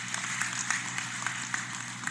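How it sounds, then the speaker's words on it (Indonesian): An audience claps during an opening ceremony for a teacher-training coordination meeting, a brief burst of many hands with a few sharper claps standing out, heard at moderate distance. "Tepuk tangan dulu untuk beliau."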